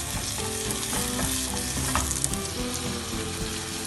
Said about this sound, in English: I want to bake them with some oil, a little bit of butter, and then the white part of the zucchini.